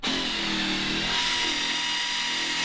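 A power drill runs steadily and loudly for a few seconds, a continuous buzzing whir, while screws are taken out of the wheel arches of a Mazda RX8 drift car build.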